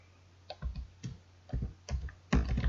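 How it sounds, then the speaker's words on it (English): Keys clack on a computer keyboard in short bursts of a few quick taps each, close and clear in a quiet room with no voices. "I'll just type something here"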